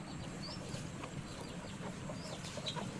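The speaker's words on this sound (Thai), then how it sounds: "นี่ไก่นี่ก็เลี้ยง ลูกไก่เอง" Free-range chickens clucking outdoors on a Thai farm where hens raise their own chicks, with soft scattered clucks and short chirps over low background noise and no talk.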